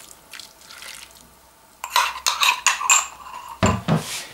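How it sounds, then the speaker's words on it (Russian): A spoon stirs apple mash with added rehydrated yeast in a pot, giving close, irregular scrapes and clinks against the pot over wet, sloshy mush. The sound starts after a quiet opening and continues in a steady stirring rhythm. "И перемешиваю."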